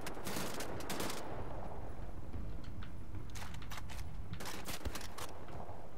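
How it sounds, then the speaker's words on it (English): Enemy gunfire rains toward the player in Wolfenstein: The New Order, with rapid bursts of automatic shots in clusters, loud and close at the start and again toward the end, over a constant background din. "Who's shooting at me?"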